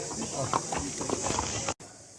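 Horse hooves clip-clopping on a path in Matheran, a few soft, uneven hoof strikes under steady background hiss and nearby talk, cut off abruptly near the end.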